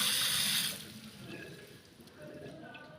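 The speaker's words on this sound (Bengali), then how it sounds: "ফার্স্ট মুখটা ধুয়ে নিই" Tap water runs strongly into a sink for a moment during face washing, then quiets to softer splashing and trickling, close to the microphone.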